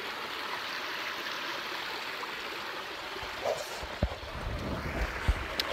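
An overflowing creek swollen by heavy rain rushes steadily beside hot springs, a continuous broadband roar of flowing water with a few small splashes and knocks near the end.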